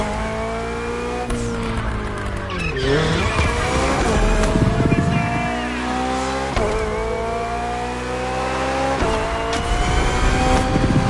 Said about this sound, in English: The Hybrid V8 will do the rest.